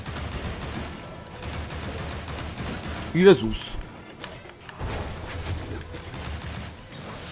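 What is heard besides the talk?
gunfire in video game Shank 2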